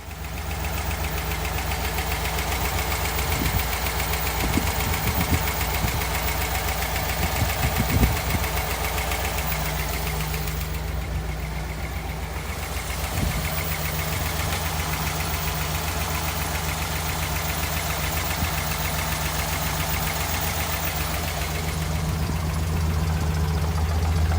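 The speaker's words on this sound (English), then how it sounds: "let's get that engine started and take a look." A 1956 Ford Thunderbird convertible with a 312 cubic inch V8 idles steadily and close by, a low rumbling throb with a faint knock that stays even for the whole stretch, with no voices over it.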